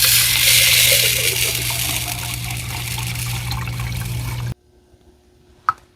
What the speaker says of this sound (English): we're gonna remove the top, and then add some water and 1 drop